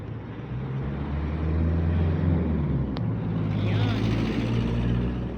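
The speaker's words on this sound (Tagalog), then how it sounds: "Ngayon dito naman ako tatawid sa isang highway. Grabe, nakakatakot. Ang daming sasakyan no." Heavy highway traffic roars continuously nearby, with a dense wash of passing vehicles and a brief sharp click partway through.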